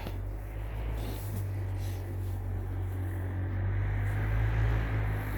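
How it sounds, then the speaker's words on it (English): A four-wheeler with no exhaust drives past close by, a steady loud low engine drone that swells slightly as it nears, with wind noise and no talk. "There's a four-wheeler coming by. Sorry for the noise."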